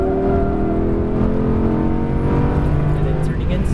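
An Audi R8 V10 Plus accelerates on a race track, its engine note climbing in pitch as the throttle opens, loud and close, with someone talking over it.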